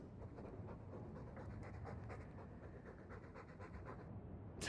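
A dog pants steadily and faintly in the Dragon Age 2 video game, a soft continuous breathy rhythm over a low ambient background, with no talking.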